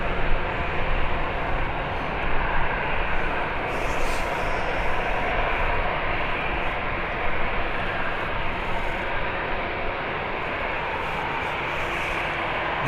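An airliner departing Birmingham Airport gives off a broad, steady jet roar at moderate distance, slightly fluctuating in level but continuous for the whole stretch, with no talk over it.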